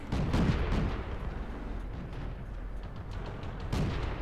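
HE rounds firing from a tier 3 T-46 light tank in World of Tanks, heavy booming blasts up close, one loud at the start and another near the end, with rumbling battle noise between.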